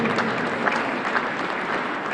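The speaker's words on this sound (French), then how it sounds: "on peut applaudir très fort" Audience applause fills a jazz and French chanson concert at the Église du Pré church in Le Mans: a steady, dense wash of many hands clapping, sustained and even throughout with no talk.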